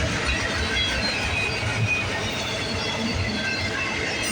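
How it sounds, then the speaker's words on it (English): A CN westbound freight train rolls past on the Halton subdivision at Burlington, Ontario, a steady loud rumble of wheels and cars close by with faint squeal, no talk. "we got a CN westbound train"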